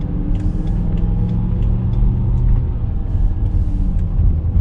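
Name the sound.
BMW E60 M5 car driving through town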